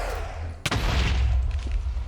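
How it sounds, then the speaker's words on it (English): An explosion in the video game Minecraft, Stoneblock modpack, gives one sharp, loud boom followed by a low rumbling tail. "the explosion was going through the walls and breaking that"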